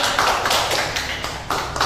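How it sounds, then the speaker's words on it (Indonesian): Classroom students clap for a group of classmates, a short burst of brisk, close, loud applause with no talking. "Tepuk tangan untuk kelompok 2"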